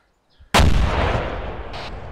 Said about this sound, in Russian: Взрываю сейчас, как понял.